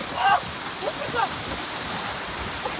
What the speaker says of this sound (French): Ça y est, la grêle arrive.